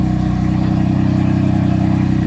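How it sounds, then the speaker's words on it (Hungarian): A BMW M4 GTS fitted with an Akrapovic exhaust revs loudly and steadily up close, its deep, pulsing exhaust note holding a constant throaty drone with no talking. "Ilyen az olyan hangos kipufog, aminek szép a hangja."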